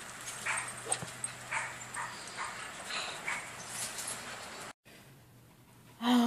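Dogs barking and whimpering outdoors near a fence, with several short yelps and whines repeating over steady background noise. The sound drops out briefly near the end before a louder burst.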